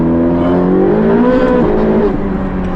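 A 1980s Ferrari engine accelerating from inside the car, a steady droning rumble whose pitch climbs and wavers, loud and close with no talk over it.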